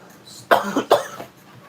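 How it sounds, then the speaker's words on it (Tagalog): Two sharp coughs in quick succession, close and fairly loud, followed by a brief quieter throat sound, with no talking. "Nako, inuubo na ako"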